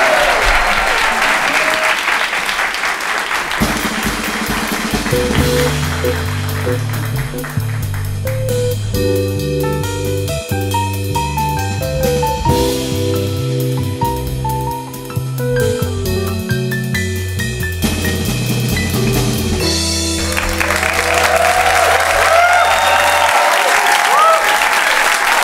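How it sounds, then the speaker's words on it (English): At a live show at the Theatre Aurora, a crowd bursts into clapping that swells at the start, gives way to a stretch of musical tones in the middle, then returns loud and dense at the end. "give them a round of applause"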